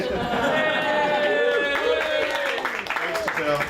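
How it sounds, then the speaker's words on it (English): An audience at a game developers' meetup cheers and claps for a presenter, a lively burst of whoops and applause mixed with excited voices. "That's the biggest cheer I've ever had."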